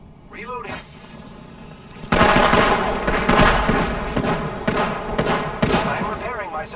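Gunfire in Apex Legends: quiet opening, then a sudden loud burst of rapid repeated shots and impacts continuing to the end, with a character voice talking among the shooting.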